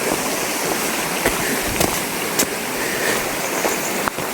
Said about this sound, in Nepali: सायद पानीको मुहान नै हो कि क्या हो